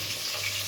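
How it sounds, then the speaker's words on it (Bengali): Fish frying in a pan, a steady dense sizzle with constant crackling and no voices, close and fairly loud throughout. "মাছটা ভাজি করে তারপরে এগুলা ভাজি করব।"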